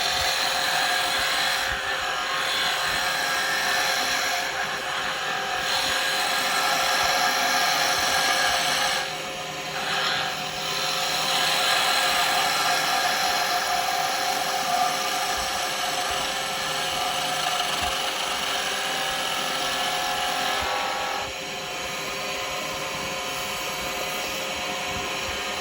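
Wood lathe spinning a pen blank while a gouge rides the bevel, making a continuous loud whirring hum with scraping cutting noise that dips briefly a few times.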